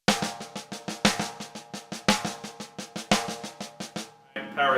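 Paradiddle-diddle sticking played on drums with the hands only, a fast, even stream of close, sharp strokes in repeating groups with accented beats, followed briefly by a voice.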